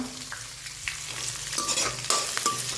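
Onion and green chillies sizzle and crackle in a hot-oil tempering, with a few stirring scrapes; a steady, close frying sound with no talking.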